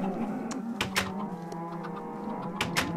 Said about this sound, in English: these cows are so loud